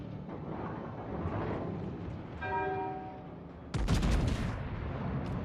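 Heavy naval guns boom from a warship in World of Warships, with a dense rumbling battle bed throughout, a brief tonal whine in the middle, and a sudden loud blast near the end.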